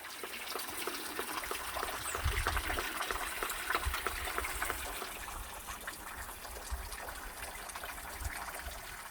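Water tumbling steadily over a folding-screen-shaped waterfall rock along a primitive valley trail in Korea, a continuous broadband rush with no voices, moderately near and even in level throughout.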